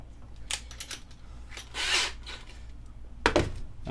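A power drill with a 1/4 inch bit bores holes in plastic for a DIY circuit-bending tool: a few short bursts of drilling close up, punctuated by clicks and clatter of small parts.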